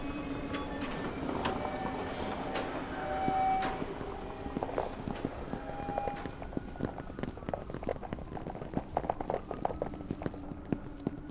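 A train ride in the video game The Mosaic gives a steady rolling rumble with rhythmic clacking and clicking, a faint tone now and then, and no voices.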